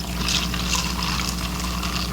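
Continuous pouring of mineral water for a michelada, with a steady hiss of fizzing bubbles, close and even, no talking.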